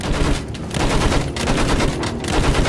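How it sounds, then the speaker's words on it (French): Sustained machine gun fire rattles without pause in the video game Battlefield 1, with dense, loud bursts overlapping into a continuous barrage. "Feu avec cette mitrailleuse."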